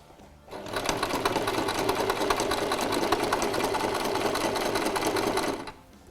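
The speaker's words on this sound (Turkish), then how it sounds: "Şimdi çıma dikişini çekmeye başlıyorum." A Singer sewing machine topstitches a garment collar in one steady, fast, close-up run of rapid needle clatter lasting about five seconds, starting and stopping abruptly.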